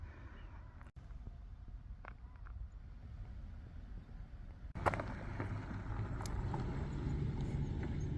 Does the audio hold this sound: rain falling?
no